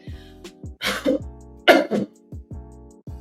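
Several sharp, forceful coughs close by, in two main bursts with short throat sounds between, separated by brief pauses.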